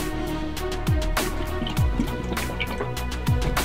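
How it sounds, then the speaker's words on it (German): Liquid potion being drunk: wet gulping and dripping sounds with several downward-sliding slurps, close and steady over a continuous background hum, no talking. "ich muss direkt mehr davon trinken"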